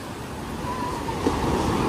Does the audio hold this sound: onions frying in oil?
no